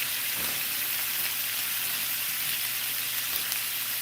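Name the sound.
bacon sizzling in a frying pan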